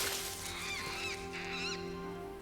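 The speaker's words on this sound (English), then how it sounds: "It's a giant, it's a bird." A giant puffy bird creature calls in the Final Fantasy XIV video game, two honking, goose-like squawks over a steady game soundtrack drone.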